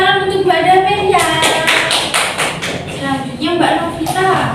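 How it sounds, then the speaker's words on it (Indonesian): A classroom of students breaks into a short burst of hand clapping for a classmate during an Indonesian-language lesson, with a teacher talking before and after the claps. "Tepuk tangan untuk Mbak Damen ya"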